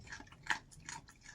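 A pet dog crunches and chews dry kibble close by, with a few irregular bites over a short, fairly quiet stretch.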